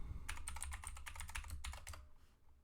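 A password is typed on a computer keyboard during a Debian install: a quick, close run of soft key clicks lasting under two seconds, then near quiet.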